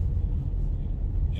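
Morning rush-hour traffic on the A5 in London, heard from inside a moving vehicle as a steady low engine and road rumble that holds at constant level throughout.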